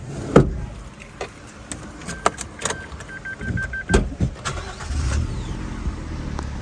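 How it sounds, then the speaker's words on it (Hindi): A small Alto hatchback starts from cold, with clicks, a whirring electric tone and a few sharp knocks leading into a low engine rumble that settles into a steady idle close by. "खैर इसका कोल्ड स्टार्ट खत्म करते हैं"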